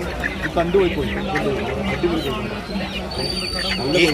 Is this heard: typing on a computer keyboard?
no